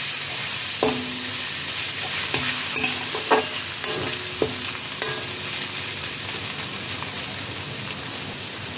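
Fish mixture for Kolkata-style rui fish chops stirred in a hot pan, spoon scraping and knocking against the metal in irregular strokes over a continuous close sizzle.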